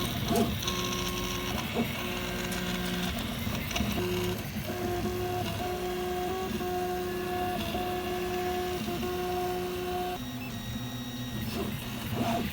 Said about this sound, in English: Now we got the infill being printed.